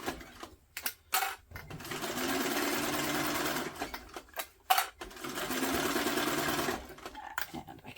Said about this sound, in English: Do some nice back stitching there.